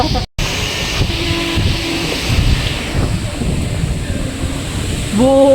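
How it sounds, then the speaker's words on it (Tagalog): Heavy rain pours during a storm at People's Park in the Sky, a steady, loud wash of wind-blown water with a brief dropout near the start and faint voices rising toward the end. "Binabagyo ang People's Park."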